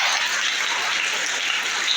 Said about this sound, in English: Clap for this answer.